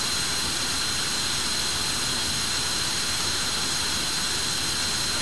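A jet aircraft engine roars during takeoff in a flight simulator game, a constant, dense whine and rush with no break or change in level.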